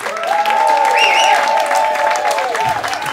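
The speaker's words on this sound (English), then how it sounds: "They're cheering for you, bro." An audience cheers and applauds for a musician at a live concert set, sustained clapping mixed with shouts and whoops, with music tones ringing through the crowd noise.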